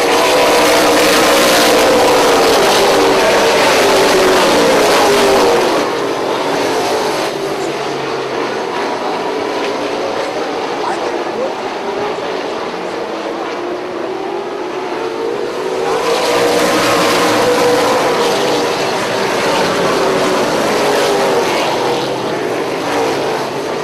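Late model stock cars racing under green at a short oval, a loud pack of engines roaring past near, fading to a distant drone, then sweeping back close again as they come around.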